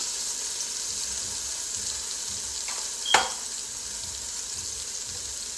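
Beef pot roast browning in a hot pan gives a steady, moderately loud sizzle with no one speaking, plus a brief sharper crackle partway through.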